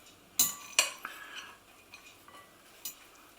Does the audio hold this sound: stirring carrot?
yes